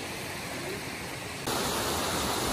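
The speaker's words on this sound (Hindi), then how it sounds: "ये आबशार दूसरी है इस ट्रैक की, दूसरी आबशार, और ये बड़ी आबशार है।" A big waterfall on a mountain trek in Neelum Valley roars with continuous broadband rushing water, growing noticeably louder partway through as it comes closer, with no voices.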